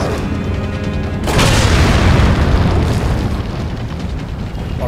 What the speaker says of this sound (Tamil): குண்டு போட்டு சாவுறாங்க.